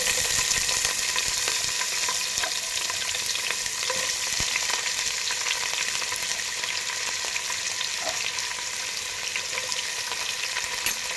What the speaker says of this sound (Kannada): ಹಾಕಿ ಚೆನ್ನಾಗಿ ಫ್ರೈ ಮಾಡಿ